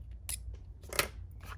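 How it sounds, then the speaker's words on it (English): Scissors snip paper while trimming a circle tag for a junk journal: a few quiet, close, crisp cuts, with a sharp snip near the middle and softer ones around it. "I might need to get some scissors"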